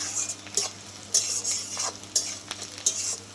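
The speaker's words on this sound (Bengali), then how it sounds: "পেঁয়াজটা আমি খুব খড়কড়ে করে ভাজবো না পেঁয়াজটা হয়েই গেছে ভাজা" Onions and whole spices fry in a pan with a bay leaf while a utensil scrapes and stirs. Repeated sharp strokes land every half second or so over a constant close sizzle, and no voices are heard.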